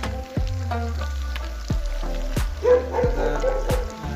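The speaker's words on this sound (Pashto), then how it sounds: "سپی ورته غوپېږي" Dog barking outdoors at night in a mountain setting, several barks scattered over a few seconds, moderately near, heard over a steady background of sizzling and low rhythmic thuds.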